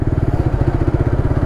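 A Suzuki GSX-S150 motorcycle engine runs close and loud with a fast, even, throbbing pulse under the throttle.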